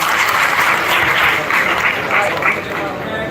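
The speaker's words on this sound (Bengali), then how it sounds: "একটু করতালির মাধ্যমে তাকে স্বাগতম জানান" An audience at a Jamaat event claps to welcome a guest from Dhaka University, a dense, sustained burst of many hands clapping that tapers slightly toward the end.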